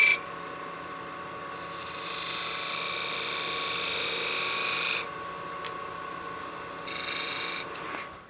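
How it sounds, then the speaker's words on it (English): A spindle gouge shearing across a spinning wooden burl on a lathe, a steady hissing, rasping cut that runs for a few seconds, pauses, then resumes briefly near the end under the low hum of the machine. "So I'm going to bring my spindle gouge back in."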